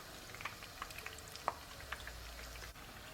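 Pakoras frying in oil over a low to medium flame, with soft scattered crackles and pops above a faint steady sizzle, quiet and close.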